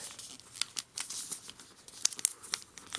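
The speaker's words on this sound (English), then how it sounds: "So just lift that up, and fold." Origami paper folded and creased by hand, making soft crinkling rustles and a few sharp crisp snaps, close and quiet, with no speech.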